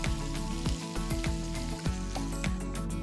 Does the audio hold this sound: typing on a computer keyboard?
no